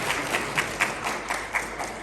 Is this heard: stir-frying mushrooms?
no